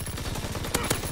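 Rapid automatic gunfire from a video game weapon, a steady burst of evenly spaced shots with two louder cracks near the end, close and loud with no talk over it.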